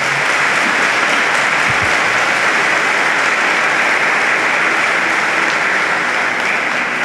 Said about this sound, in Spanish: Nuevamente un aplauso para ellas.